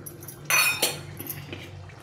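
Hot water splashes into a pan being rinsed, a short burst of gushing water and a clink of metal, close by and brief.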